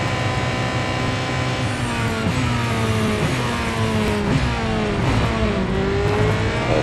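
Porsche 919 Hybrid race car from 2014 in Real Racing 3 at the Red Bull Ring, its engine droning steadily at high revs with rising and falling gear sweeps, loud and continuous throughout.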